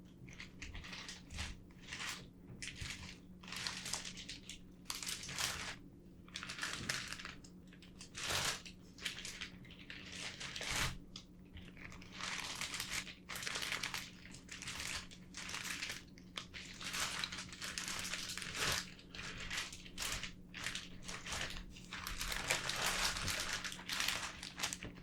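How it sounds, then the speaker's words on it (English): Plastic packaging around a new-in-box Hot Toys Anakin Skywalker action figure crinkles and crackles close up in repeated bursts, with short pauses between handlings and no talking. "before we take off the plastic, I'll do some crinkle noises with it"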